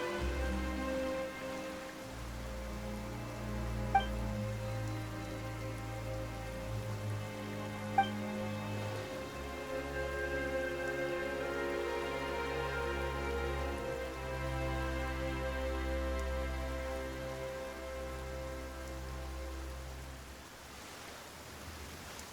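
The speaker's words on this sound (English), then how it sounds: "Why is it raining all of a sudden?" Rain falling in Genshin Impact: a soft, steady hiss of rain on surfaces under sustained game music with low held tones, continuing evenly until it fades near the end.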